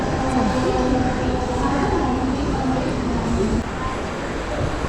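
A train rumbles steadily at a busy suburban railway station near Dombivli, a continuous loud rolling roar of wheels with faint voices underneath.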